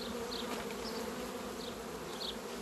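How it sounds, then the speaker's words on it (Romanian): Steady, dense buzzing of a honeybee colony at the hive, continuous and close with a low hum and a few brighter whines of individual bees passing near. "Stresul unei colonii de albine se poate induce în lipsa hranei."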